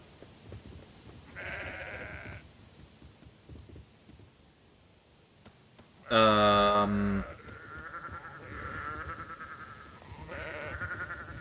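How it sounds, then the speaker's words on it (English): Sheep in the video game Sudeki bleat several times: a fainter call early on, then one loud, close, drawn-out bleat near the middle, followed by softer repeated bleats, all without talking. "Those don't quite look like normal sheep,"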